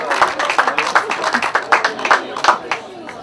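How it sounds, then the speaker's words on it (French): An audience claps steadily for a prize winner at the 2022 Cruguel race ceremony, the brisk, uneven applause running under an announcer talking over a loudspeaker. "je vous demande d'applaudir Christelle Le Belair"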